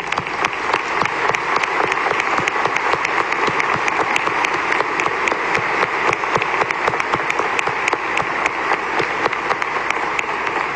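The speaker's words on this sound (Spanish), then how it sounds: "Les damos un cariñoso aplauso." A congregation closing Sunday Mass breaks into sustained, loud applause, a dense hiss of many clapping hands that runs evenly for several seconds without speech.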